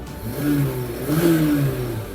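A 2011 Honda Civic FD 1.8 S engine revs up twice in quick succession from a 900 rpm idle, the pitch rising and falling each time, close by and fairly loud.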